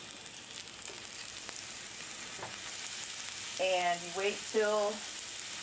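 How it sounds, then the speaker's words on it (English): Pineapple slices sizzle on a hot grill, a steady hiss rising under a brief spoken phrase, with a few squeaky scraping strokes near the end. "So you kind of let it sizzle."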